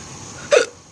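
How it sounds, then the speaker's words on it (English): A single short hiccup, fairly close and distinct, standing alone against quiet background. "Oh, excuse me, I got the hiccups."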